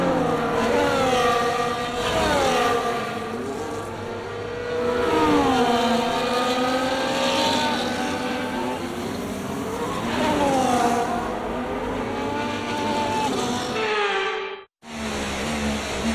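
F1 24 race cars in the video game run a formation lap on a wet track in Brazil, engines rising and falling in repeated revving passes, loud and close, with a brief cut near the end.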